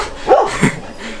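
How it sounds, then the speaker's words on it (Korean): Two sharp barks from several dogs, close by and fairly loud, a short gap between them, followed by quiet room noise in a Korean countryside home. "강아지들 너무 시끄러워서 죄송합니다."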